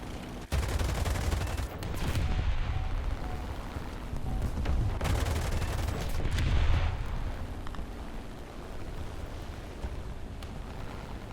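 Aircraft cannon and machine guns fire in sustained bursts at ground targets from a WWII Bf 109 F-4 fighter in War Thunder, loud and dense over the steady roar of the engine, with no talking.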